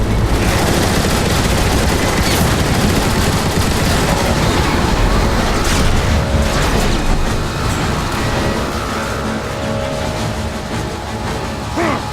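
Turret guns in Transformers: War for Cybertron blast away at a ship, a loud, dense, sustained barrage of rapid fire with explosions, steady throughout and easing slightly toward the end.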